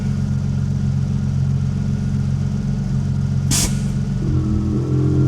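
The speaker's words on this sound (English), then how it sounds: "There's the exhaust valve on the management module going letting a tiny amount of air out." Air-ride suspension on a Mercedes 190E Superturbo adjusting its pressures, a steady compressor and engine-like hum broken by one short sharp hiss as the management module's exhaust valve vents a little air, followed by a shifted tone.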